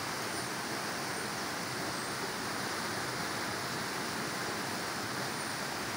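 The Yala River in Siaya County, Kenya, runs fast and dangerous, giving a broad, steady rushing roar of flowing water that stays constant and moderately distant, with no voices.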